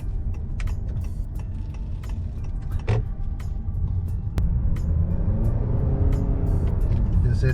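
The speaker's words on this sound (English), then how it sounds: "this is the CVT rev noise that I was talking about" A 2020 Honda Accord Hybrid's engine revs under its CVT, a low rumbling drone that swells and climbs in pitch partway through, with scattered clicks and rattles inside the cabin.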